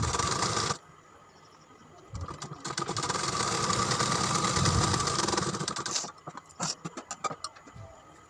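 Sewing machine stitching the belt section of a bra-cut blouse. Steady whirring run for a few seconds, then short uneven bursts and clicks toward the end.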